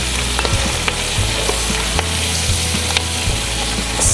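Greens sauté in a hot pan, a loud continuous sizzle close up with a spoon scraping and stirring through them in an uneven rhythm.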